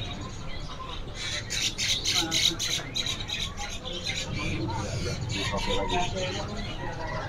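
Dark-coloured canaries calling at a bird shop, bursts of bright chirps and squawks rising over a steady background din.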